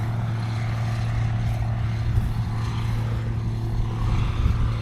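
A 1995 Case IH 7210 Magnum tractor running, a steady low engine drone with a strong continuous hum, even and sustained at close to moderate distance, with no talking.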